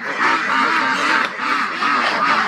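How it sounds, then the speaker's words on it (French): A flock of farm ducks in an outdoor rearing pen quacks loudly and continuously, with many overlapping calls close by and no talking. "Et du coup ici les canards ils arrivent là. Et c'est ici que je vous dis qu'il y a le troupeau qui fait du bruit."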